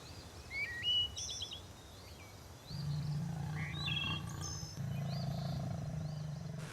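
In the Serengeti, a lion beside a fresh kill gives low, rumbling roars, a steady growl that deepens partway through, while birds chirp and whistle in the background.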